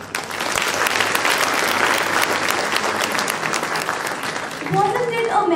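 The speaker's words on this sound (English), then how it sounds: "have a huge round of applause for our fantabulous choir" An audience applauds a school choir at a student cultural fiesta, dense sustained clapping filling the hall and staying loud throughout, with a brief voice rising near the end.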